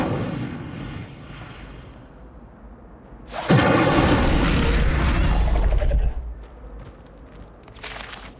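An Incendio fire spell cast in Hogwarts Legacy bursts out loud and sudden, a dense roaring blast lasting a few seconds before fading back to quieter game ambience, with a smaller flare near the end.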